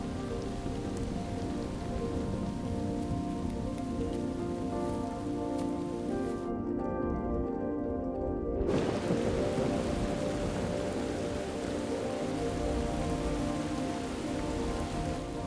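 Steady, dense rain falls at the onset of the wet season, a continuous hiss of drops on surfaces with a low rumble underneath, briefly dipping in brightness partway through before resuming at full intensity.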